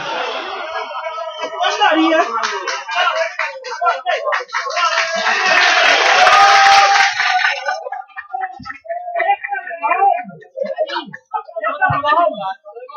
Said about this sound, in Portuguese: Essas palmas não são para mim.